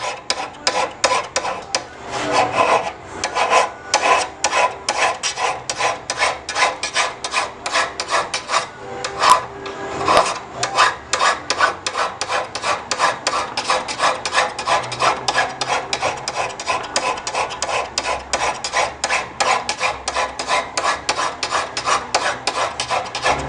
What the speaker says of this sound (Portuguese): Estou estabelecendo um novo perfil de corte aqui